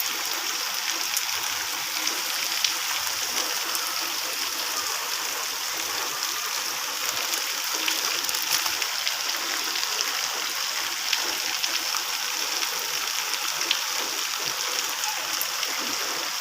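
Rainwater flows along a road while rain keeps falling, making a steady, dense hiss and rush of running water that stays even and close, with no speech.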